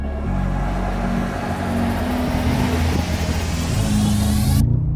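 A Mercedes-AMG G 63 G-Wagon with a 577-horsepower engine launches hard from a standstill, its loud engine note climbing steadily through the run before cutting off abruptly near the end.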